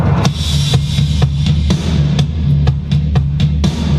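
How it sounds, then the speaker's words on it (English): A modest drum pattern with a steady low kick, tom hits and sharp snare cracks repeating at a moderate tempo, with no voices. "there's a kick coming in, some toms, and a big snare. It sounds like this."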